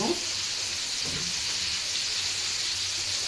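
Breaded chicken cutlets (panee) frying in hot oil give a steady, close hissing sizzle, with brief louder bursts of crackle at the start and again around one second.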